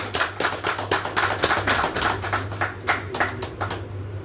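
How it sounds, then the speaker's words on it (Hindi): A group claps together at a weekly business meeting, a steady rhythmic run of close, sharp claps over a low background hum, with no talking. "ओके, ताली बजाओगे।"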